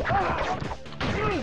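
A crate smashing open in the video game Crash Bash: a close crunching crash followed by a brief break and another burst of impact noise, with cartoonish sliding tones over it.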